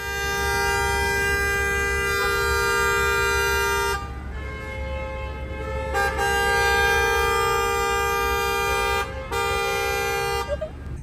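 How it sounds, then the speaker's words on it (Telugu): Car horns honk repeatedly amid heavy New York City traffic, sustained blaring tones layered over the steady rumble of engines, with a few short breaks in between. "ఇక్కడ ఫుల్ ట్రాఫిక్ ఉంటుంది, విపరీతమైన ట్రాఫిక్. చూడు హారన్స్ కొడుతూనే ఉంటారు"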